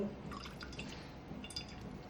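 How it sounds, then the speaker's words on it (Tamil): Water trickles and drips into a pot, a soft liquid splashing that goes on steadily with faint clinks, close by and fairly quiet. "அதுக்கு தேவையான தண்ணி ஊற்றிடுதேன்."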